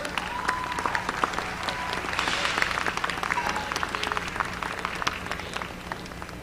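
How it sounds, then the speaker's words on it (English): A crowd at a national championship strength competition applauds the event staff, with full, continuous clapping and occasional sharper claps that stay loud throughout. "How about a round of applause for the staff?"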